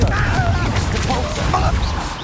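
Confringo explosive spell going off in Hogwarts Legacy: a dense, booming blast with rumbling low end and scattered crackles, loud and sustained throughout, with a voice talking over it.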